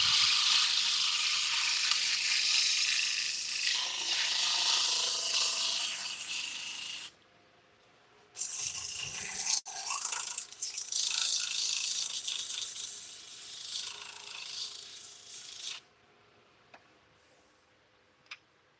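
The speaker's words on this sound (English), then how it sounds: "I'll try sanding this outside here to see if I get that CA patching down a little bit." Wood is sanded on a lathe outdoors to smooth down CA glue patching on a turned piece, a steady hissing abrasion broken by two brief pauses, no talk.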